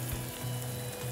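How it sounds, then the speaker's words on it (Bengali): Eggplant, cut lengthwise, sizzling in a hot pan of oil while cooking with dried fish and potato, a steady dense frying hiss with a low buzzing hum, close and continuous with no talk. "আমি এখন বেগুনটা দিয়ে দেবো।"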